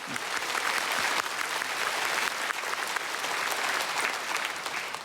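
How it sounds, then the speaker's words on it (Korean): A large church congregation at a Korean special dawn revival service applauds in praise of God: dense, continuous clapping from many hands that fills the space and holds steady, with no voices above it. "우리 하나님께 영광의 박수 올려드립시다"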